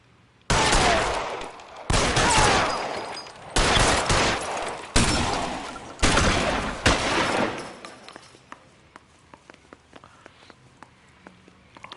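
Repeated bursts of gunfire from the LA Noire video game, five loud sustained volleys spaced about a second apart, then fading into quieter scattered clicks and faint shots.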